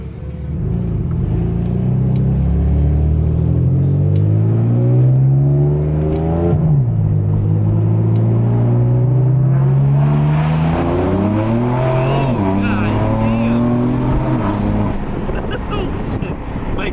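A car in ultra sport mode accelerates hard, its engine roaring loud and close as it climbs through rising revs with brief dips at gear changes, wind rushing over it.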